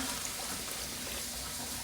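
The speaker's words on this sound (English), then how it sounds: "It's warm, but it's not hot, so I'm gonna pour it in now" Warm water poured steadily into a bowl on a kitchen scale for sourdough, a continuous close hiss of liquid with no talk.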